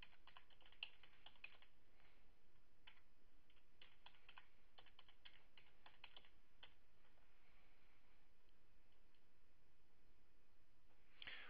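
Keys on a computer keyboard are typed to enter a username and password, quiet irregular bursts of clicks close by, pausing briefly before a few final taps.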